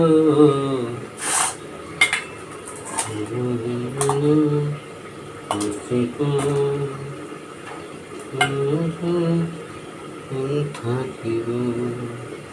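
Home cooking in a kitchen, with scattered clinks and scrapes of pots, utensils and stirring, sharp metallic knocks popping out between stretches of a person talking almost continuously over the work.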